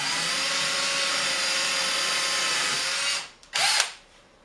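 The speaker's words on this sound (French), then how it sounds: "je vais pré-percer un trou, pas trop profond, naturellement" Power drill boring a shallow pilot hole into wood for screws while building a bedside table, a steady close whine for about three seconds, then a brief stop and a short second burst.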